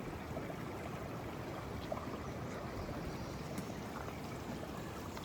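Stream water flowing beneath rocks on a trail, a steady, faint broadband rush and gurgle heard from close by, with no voices.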